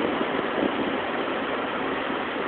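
A Chevrolet Suburban Z71 engine runs steadily just after starting, a constant muffled mid-range hum with faint vibration and no change in pitch throughout, no voices heard.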